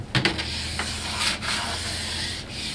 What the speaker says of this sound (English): that is your 500 grit, getting a little finer, making that edge a little more polished each time